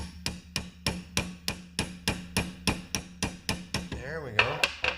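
A hammer taps a pin in a fishing reel held in a vise, about a dozen sharp metallic strikes in a steady, even rhythm, close and loud, with a brief ringing tone near the end.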